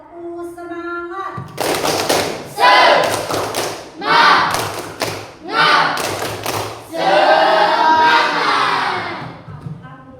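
A classroom of children performs a rhythmic spirit clap, with bursts of unison clapping and thumping in repeated patterns, mixed with group chanting and shouting voices.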